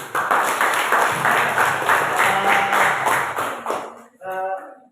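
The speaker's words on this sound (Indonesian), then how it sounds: "oke baik, kita tepuk tangan." Students in a biology classroom clap together for several seconds, a busy ragged patter of many hands, followed by a short moment of a voice speaking after the clapping ends.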